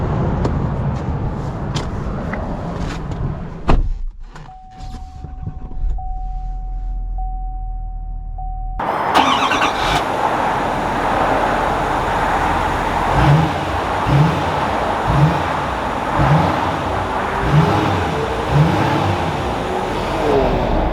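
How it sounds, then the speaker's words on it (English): A 2021 Chevy Silverado 3500 LTZ Sport Edition truck starts with a sharp crank, settles into a steady idle hum, then rumbles loudly as it drives off, with rhythmic thumps over the engine noise. "let's take this Chevy 3500 out and see how it drives"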